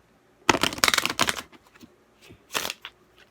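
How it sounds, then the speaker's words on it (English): A deck of playing cards is shuffled for a blackjack card-counting lesson: a quick burst of riffling flutters close up, falls quiet with a few soft ticks, then a second short riffle follows. "when you shuffle the cards,"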